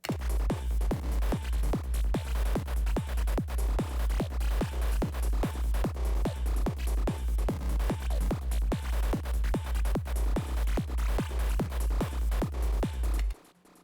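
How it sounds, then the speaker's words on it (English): A fast, relentless sequence of short, punchy FM grid synthesizer notes with heavy low-end thumps, pulsing evenly throughout before cutting off abruptly. "Today we're making FM grid synths with AutoPlay MIDI generator."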